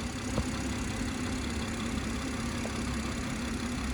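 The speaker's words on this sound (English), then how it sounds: "So this is the straight six" BMW 340i M Sport with a straight-six twin-scroll turbo engine idles with the bonnet open, a steady, even mechanical hum and whir heard up close with no talk over it.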